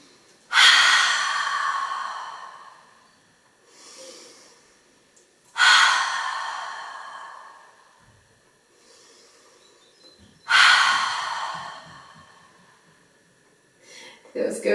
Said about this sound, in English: I want everybody to take 3 deep breaths with 3 loud exhales through